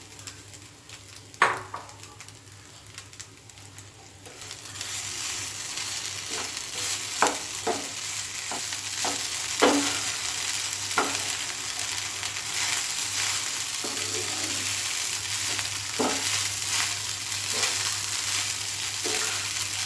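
Rice being stirred and fried in a pan while making South Indian coconut rice, with a steady soft sizzle and scattered scraping stir strokes at irregular intervals, close and moderately loud, no talk.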